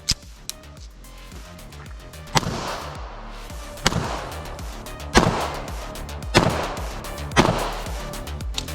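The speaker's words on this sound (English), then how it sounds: "We'll shoot a few rounds while we warm up here." A Nighthawk BDS9 pistol fires several sharp, loud shots at irregular intervals, each crack ringing out clearly over a quiet background.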